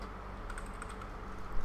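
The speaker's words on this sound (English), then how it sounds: "I was typing somewhere else," Quick, soft tapping on a computer keyboard, a steady patter of keystrokes close by with no talking.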